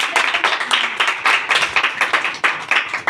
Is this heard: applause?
yes